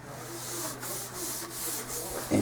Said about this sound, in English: So what we're doing here is just lightly sanding it